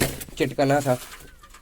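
A captured pigeon coos in short, close, throaty phrases lasting under two seconds, partly overlapped by a human voice.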